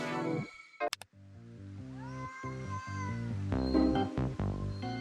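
A cat meows repeatedly in a TikTok cat video. The drawn-out, wavering cries are close and clear, and a steady tonal backing runs underneath.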